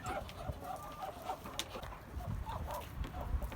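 Soft Muscovy duck sounds, low murmurs and faint calls, come from nearby against a noisy outdoor background.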